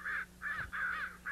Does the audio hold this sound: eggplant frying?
no